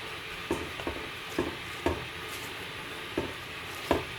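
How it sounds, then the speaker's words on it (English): A spoon stirs mung dal with spinach in a pot on a stovetop flame, giving soft irregular scrapes and knocks over a faint steady sizzle, with no talking. "I'm just stirring it all together."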